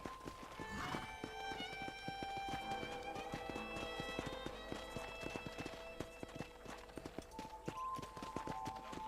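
Horse hooves clip-clop in Red Dead Redemption, a rapid steady trot close by, with a neigh near the start and tonal game music running underneath.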